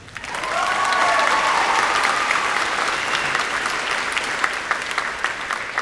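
Sustained audience applause at a high school graduation ceremony, a dense roomful of clapping that swells in and holds steady, with faint cheering mixed in.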